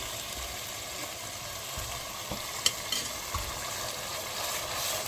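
A spoon stirs boiled tomatoes in a pot with soft, faint scraping and a few light clinks over a low simmering sizzle, close by and without speech.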